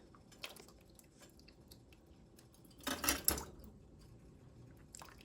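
Hot tomatoes are ladled into canning jars: a short, wet, squishing pour in the middle with a few faint clinks and soft handling sounds around it.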